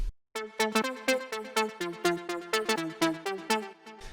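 A simple synth melody from a slap house track of quick, evenly plucked notes plays at a steady rhythm, bright and clean with no voices.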